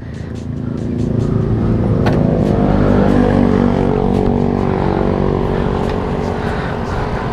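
Sport motorcycles on a group Sunday ride near Lembang, a CBR 250 RR among them, accelerating hard; a loud engine roar builds and holds with gear-change blips, fairly close, no talk.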